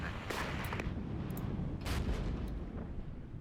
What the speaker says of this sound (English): We can, however, call in some more artillery strikes.